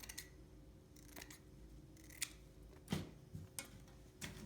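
Scissors trim the tail of a ribbon for a lantern swag arrangement, giving several sharp, close snips spaced irregularly over a quiet background with no talking.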